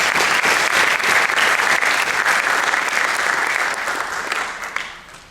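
Audience at a school alumni award ceremony gives a round of applause to thank the event organizers: sustained, dense clapping from a crowd that fades out over the final second.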